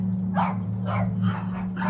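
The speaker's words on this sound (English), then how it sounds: "That's my dogs." Dogs bark in a row of four quick, moderately loud barks over a steady low hum in the background.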